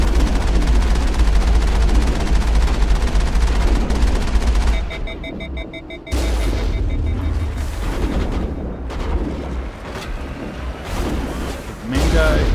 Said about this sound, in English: at least we're in the Mako now, so we have access to its big guns